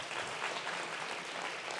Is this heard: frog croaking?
no